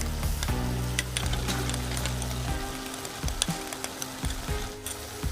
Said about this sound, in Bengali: আমি এখানে টক দই নিয়েছি, এটাকে ভালো করে ফেটিয়ে নেব চামচ দিয়ে